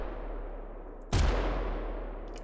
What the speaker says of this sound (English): The gunshots sound good.